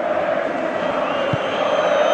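A big stadium crowd roars and chants in the PES 2017 football video game during a Real Madrid versus Manchester United match, a loud, sustained wall of cheering that never lets up.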